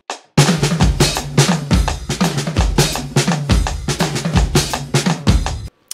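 A five-beat drum riff pounds out as dense, loud kit hits in a repeating pattern of tom and kick strokes with crashing cymbals, several cycles back to back and no talking.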